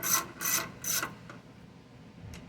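Three quick ratcheting bursts from a wrench tightening a bolt on a Pulsar 72cc 1200 W portable generator, close and crisp, followed by a faint click and quiet background.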